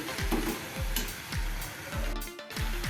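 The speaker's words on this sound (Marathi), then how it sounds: "आपण आता ही थोडी परतून घ्यायची आहे" Okra with masala is sautéed in oil over a low flame, a spoon scraping the pan in a steady, even rhythm about twice a second over a constant close sizzle.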